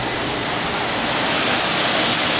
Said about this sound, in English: I'm going to turn on the wash pump and the rinse pump